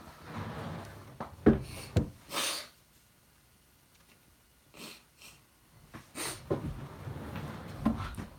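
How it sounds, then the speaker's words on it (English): A sick person blows their nose in several bursts, giving honking, snorting blasts with sniffs and breaths between them. The sounds are close and moderately loud, with quiet gaps and no speech. "I'm just going to go blow my nose."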